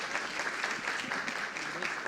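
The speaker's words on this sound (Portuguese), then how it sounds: "uma salva de palmas ao nosso palestrante" Audience applause for a speaker at a Brazilian industry conference session on productivity, a steady, dense clapping from a seated crowd that fills the short moment without any voices over it.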